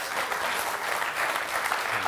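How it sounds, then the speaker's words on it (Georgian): Studio audience applause fills a Georgian TV game show, dense continuous clapping from a crowd that holds steady at a fairly loud level throughout, with no talking over it. "თანხას აპლოდისმენტები მეგობრებო"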